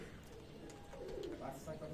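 Pigeons give soft, low cooing calls nearby, faint and intermittent, amid quiet background voices.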